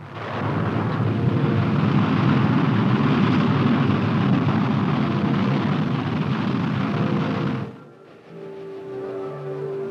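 A Corporal missile launching: a loud, sustained roaring rush with heavy low rumble that holds steady for several seconds, then cuts off abruptly, leaving quieter mechanical hum.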